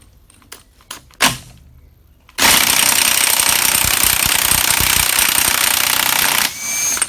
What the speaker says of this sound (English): To undo the hub nut, or drive shaft nut, you need a 32mm impact socket and ideally an impact gun.